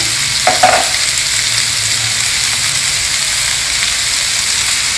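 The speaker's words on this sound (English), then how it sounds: "Mix all the masalas well together." Masala spices with turmeric, salt and chili powder stir-fry in a pan for a veg dinner, giving a steady loud sizzle throughout with a brief spoon scrape near the start.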